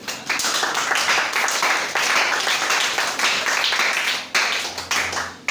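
Church audience applauding Brother Fred in a loud, sustained round of clapping that fills the hall with steady dense hand claps and no pauses.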